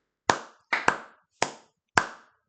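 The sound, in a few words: hand clapping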